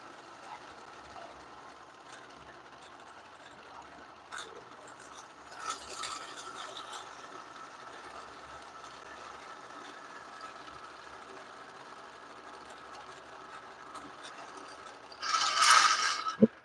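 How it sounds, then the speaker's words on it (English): Hollow core braid being wound onto an Avet fishing reel, a steady low mechanical whir with faint ratcheting clicks running throughout, rising in a louder burst near the end. "I'm spooling up over here"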